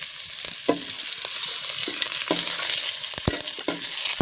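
Mustard seeds, a cut dry red chilli and curry leaves crackle and sizzle in hot oil for Mangalorean masala avalakki, a dense continuous hiss with sharp popping spatters and occasional stirring knocks, close and loud.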